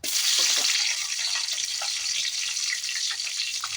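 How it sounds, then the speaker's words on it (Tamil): Chopped green chillies hit hot oil in a pan while egg fried rice is being made, producing a steady, loud, close sizzling hiss that lasts throughout with no voices. "தேவையான அளவுக்கு எண்ணெய் ஊற்றியாச்சு இப்போது வெட்டி வச்ச பச்சை மிளகாய்"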